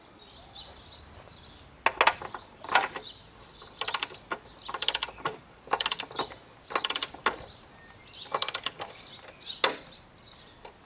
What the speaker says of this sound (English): So that's what we're going to set our torque wrench at.